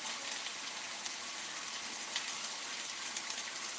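Meat sizzles in a hammered Wagner cast iron pan while cooking beef stroganoff, a steady bright hiss of frying with no speech.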